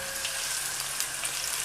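Onion frying in hot oil gives a steady, even sizzle close by, with no voices over it.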